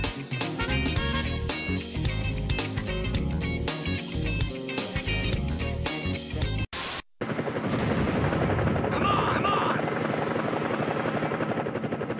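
Helicopter rotor thudding steadily and loudly in the PS2 game City Crisis, a hero pilot flying over a city under siege, with dense game music and effects before a brief cut, then continuous rotor drone.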